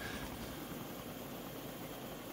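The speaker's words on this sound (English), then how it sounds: "He's on top of the helicopter." A Jayhawk helicopter engine in a video game hums and whirs as a steady, faint drone that holds unchanged from start to finish, with no voices.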